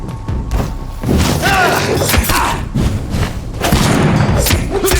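Gunfire in the video game Vampyr on the streets of Whitechapel, with loud heavy shots and booming thuds packed densely through a chaotic fight amid other combat noise.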